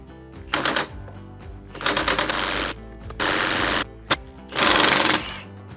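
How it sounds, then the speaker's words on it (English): An impact or air tool undoing bolts on the yoke of an RTO 12513 truck transmission, several loud ratcheting bursts of about a second each, separated by short quiet gaps and heard close up. "we have to just undo these two bolts and this yoke should come off"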